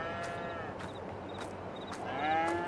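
Cows at a barn in Farming Simulator 22 give a few drawn-out moos over a steady low background hum, moderately loud, with no talking.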